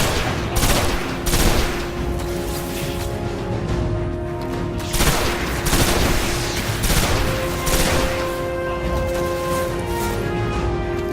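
Gunfire from a weapon in the video game Destiny crackles in dense, rapid volleys, loud and close, with repeated bursts filling the stretch.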